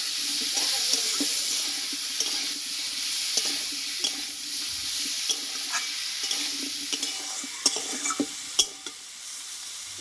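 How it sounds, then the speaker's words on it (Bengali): A ground spice paste with turmeric sautéing in a pan for a vegetarian mixed-vegetable dish, a soft steady sizzle with scattered light scrapes and clinks of stirring, growing sharper toward the end. "এখানে যে মশলাটা বেটে নিয়েছিলাম আমি দিয়ে দেবো কষিয়ে নেব দেখো"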